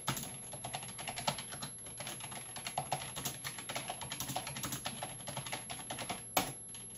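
Fast, continuous typing on a computer keyboard beside a Windows 98 Second Edition machine, with dense close key clatter and one louder stroke near the end; no voices.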